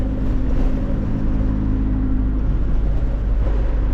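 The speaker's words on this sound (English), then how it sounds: "we're just taking it easy now, letting the car warm up" A 2015 Scion tC engine idles steadily while warming up, a deep, even rumble, close and loud, with no voices over it.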